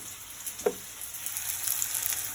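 Potatoes frying in a pan for a Bengali home-cooked dish, a soft steady sizzle close by with one brief pop, no talking.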